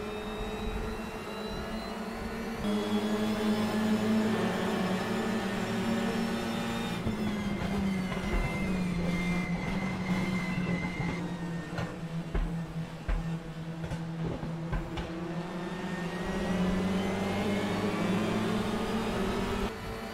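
WTCR touring race car engines in the Raceroom Racing Experience video game, a continuous loud droning roar with shifting pitch and gear changes, several cars sounding together for about twenty seconds with no talking.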